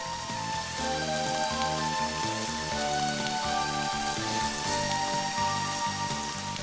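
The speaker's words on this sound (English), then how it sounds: "so it'd be kind of nice if it stopped frickin' raining." Rain falls continuously in the video game Eternal Eden, an even crackling patter layered with the game's rhythmic background music.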